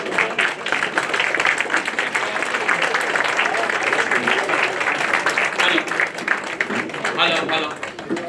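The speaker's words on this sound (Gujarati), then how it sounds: "જોરદાર તાળીઓ વધારે" Loud, sustained audience applause at a welcome function honoring a municipal commissioner, dense clapping filling the whole stretch, with voices mixed in beneath it.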